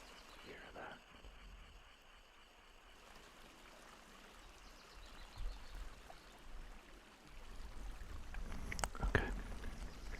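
River water flowing in a steady, faint rush with soft trickling, rising a little toward the end among a few brief knocks.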